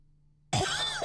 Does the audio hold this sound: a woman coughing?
yes